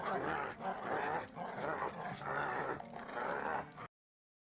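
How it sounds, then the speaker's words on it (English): A cartoon dog character, Whistle from Happy Tree Friends, voiced by a real pet dog, lets out a run of close, loud whimpering yips and growly barks in quick repeated bursts before cutting off abruptly. "the vocals of the dog was taken from Ken Pontiac's dog"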